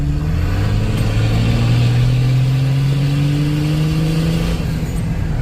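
Jeep Wrangler JKU with an M57 diesel engine swap accelerating at about 60% throttle, a loud, close, steady engine drone rising smoothly in pitch through a shift, with no talking.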